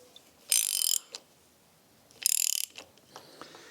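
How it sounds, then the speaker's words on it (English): A ratchet tightens a bolt on a Ford Pinto SOHC engine's timing belt tensioner, in two close bursts of rapid clicking, each about half a second long, with faint handling noises between them. "And now we can tighten up this bolt."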